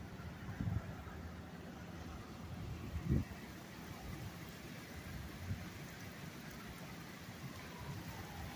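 Heavy rainstorm with strong wind: a steady broadband wash of rain and a couple of low, short thunder rumbles or booms, fairly distant and subdued, with no voices.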